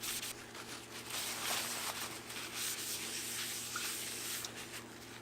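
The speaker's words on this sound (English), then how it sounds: "And just give it a quick wipe down." Steady rough rubbing and scrubbing of a paper towel across a car brake part, a continuous papery swishing with a low hum running underneath.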